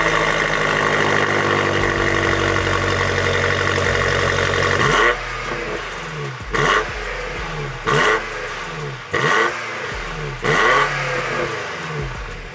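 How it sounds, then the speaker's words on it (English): A BMW M5 CS with its specially tuned stainless CS exhaust idles loudly and steadily, then blips the throttle in five short, sharp revs spaced a second or so apart, each dropping back to idle, recorded up close. "a specially tuned CS stainless exhaust from BMW, which actually sounds amazing"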